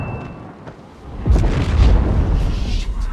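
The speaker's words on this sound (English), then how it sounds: "Gunfire, explosions, the light from the fire" A deep, rumbling boom erupts after a quieter moment and rolls on loudly, with sharp cracks and pops of gunfire and explosions scattered over it, from The Last of Us Season 1.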